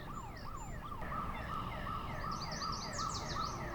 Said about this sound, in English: Devin setting car alarms off